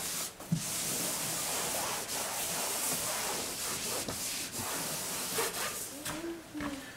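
A damp towel wipes over freshly mudded drywall patch, a steady soft rubbing and hissing swish that runs continuously, close and moderately loud, with a few brief knocks.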